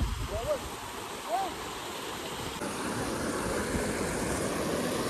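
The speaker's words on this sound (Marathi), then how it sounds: "एवढा बघा आवाज बघा. भरपूर नदी वाहते." The fast-flowing Narmada river rushes in a steady, loud broadband roar, close by, with a brief voice-like sound early on and no clear speech after.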